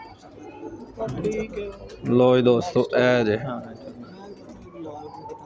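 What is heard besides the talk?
pigeons cooing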